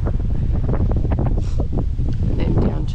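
Wind gusts roar across the microphone outdoors in cool, breezy high country, a loud low rumble lasting the whole few seconds, with a voice speaking faintly underneath.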